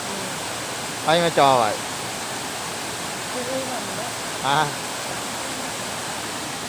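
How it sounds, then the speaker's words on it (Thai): Saeng Chan waterfall in Thailand, a steady broad rush of falling water filling the whole scene, with someone speaking briefly over it. "ตัวนี้คือทางน้ำตกลงนะครับ"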